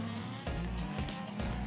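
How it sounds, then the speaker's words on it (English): Drift cars at a grassroots drift day in New Zealand, engines droning steadily nearby with rising revs and brief bursts, heard from behind a fence, no talk. "now we can film some drift cars"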